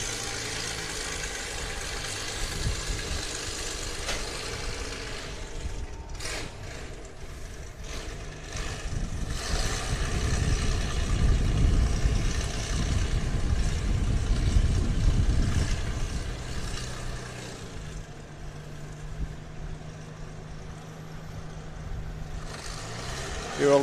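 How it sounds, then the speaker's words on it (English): Historic military armoured vehicles start up and run around a track at an armour festival, engines idling and rumbling at a distance, swelling louder midway as they move, with occasional voices in the background. "Here are all the vehicles starting up."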